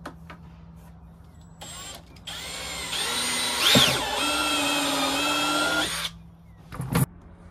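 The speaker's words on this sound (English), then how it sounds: "now I'm gonna drill a hole in the dash for this switch" A power drill bores a hole through the plastic dash of an EZGO golf cart, spinning up with a high whine that rises as the bit cuts, runs steadily for a few seconds, then stops, followed by a short final burst.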